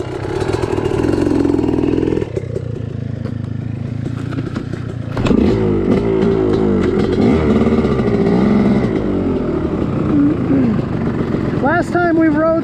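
A Yamaha YZ250X dirt bike rides a trail, its two-stroke engine revving and bogging up and down close by with clattering and scraping from the rough ground, while a voice talks over it.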